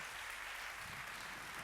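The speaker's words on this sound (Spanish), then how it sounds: "Un fuerte aplauso para ellos." An audience at a legal round-table panel claps steadily for the speakers, a dense, even wash of applause with no break and no voices over it.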